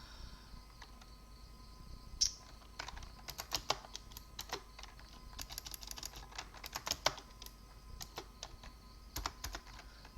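Rapid keystrokes on a computer keyboard while setting up Arch Linux with the dwm window manager, a steady run of close, crisp clicks with a few sharper taps and no talk.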